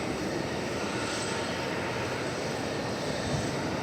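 A UPS Boeing 747 at DFW Airport gives off a continuous broad jet-engine roar, steady and fairly distant, holding an even level with no breaks.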